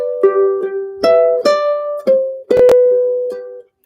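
A ukulele plays the lead solo from a song: a short run of clear plucked single notes, some slid or sustained, played close and alone with no talking.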